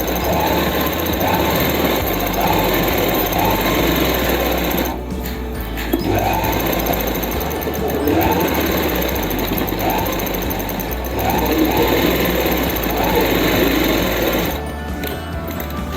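A sewing machine double-stitches the seam of a plazo pant, running loud and steady with two short pauses, one near the start and one near the end.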